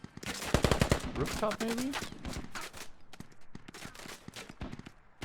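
Bursts of AK rifle fire crack out in the tactical shooter Squad, fast rattling volleys close by with scattered shots trailing off, while a voice speaks briefly over the gunfire.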